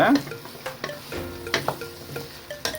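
Eggplant and drumstick pieces sautéing in oil for sambar, with a spoon stirring and scraping the pan in repeated strokes over a light sizzle, close and fairly quiet.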